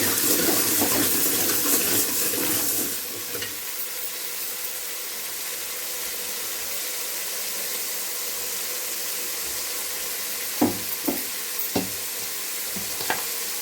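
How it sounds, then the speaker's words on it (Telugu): Tomatoes and curry leaves frying for sambar give a steady broadband sizzle, loud for the first few seconds and then settling into a quieter hiss, with a few brief clinks of stirring near the end. "టమాటాలు వేసి కొంచెం కరివేపాకు వేసి ఫ్రై చేయాలి."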